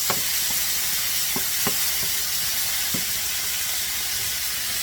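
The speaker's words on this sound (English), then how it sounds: "Saute my vegetables" Vegetables sautéing in a pan before ground turkey goes in, a steady broadband sizzle with several sharp scraping stirs scattered throughout, close and loud, no talking.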